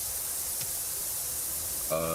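A pressure washer in the video game Powerwash Simulator 2 sprays a van, a steady broad hiss of water that runs throughout, ending with a short tonal game sound.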